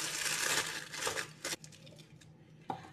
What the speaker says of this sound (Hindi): अब इस तरह से हमने एक प्लास्टिक का बैग ले लिया है